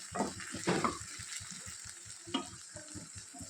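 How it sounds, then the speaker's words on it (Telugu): Okra frying in a pan while being stirred, a steady bright sizzle with soft scraping stirs near the start, close and fairly quiet. "పైకి కిందికి కలుపుతూ బెండకాయల్ని బాగా ఫ్రై చేసుకోవాలి."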